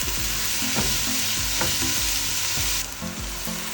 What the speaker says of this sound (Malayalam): അപ്പോൾ സവോള എടുത്തിട്ട് വഴറ്റി കൊടുക്കാം